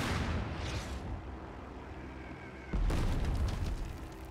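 Anti-aircraft guns fire in the strategy game Total Tank Generals, two loud booming bursts about two seconds apart with rumbling decay between them, no talk.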